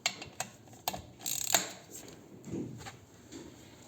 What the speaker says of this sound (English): Next step is to take out these two Allen bolts out of the brake caliper.